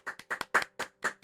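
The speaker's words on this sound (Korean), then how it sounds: "우리 주님께 영광의 박수" A congregation claps during a Wednesday evening church service, a handful of distinct, fairly sharp claps spaced irregularly over about a second, quiet and close.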